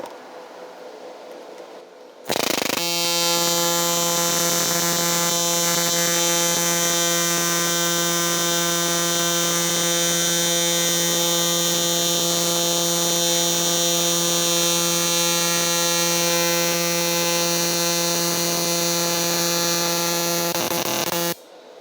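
Stick welding with an electrode on the seams of a steel practice cube, a loud steady buzzing crackle that starts abruptly, holds for about nineteen seconds, then cuts off, close and alone.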